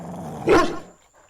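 A bulldog gives a close, loud growl that swells into a single gruff bark, then trails off into quiet, with no one talking.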